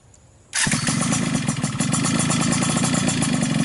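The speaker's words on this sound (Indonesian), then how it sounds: "kali ini kita mau coba knalpot motor VCR R1 Racing Mufflr ya" Motorcycle fitted with an aftermarket R1 Racing exhaust turns over and fires up after a quiet start, then settles into a loud, raspy, close idle that runs steadily to the end.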